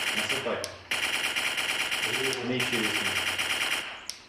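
Rapid bursts of machine-gun fire from a VR training simulator rattle continuously, loud and close, with two brief pauses between long volleys.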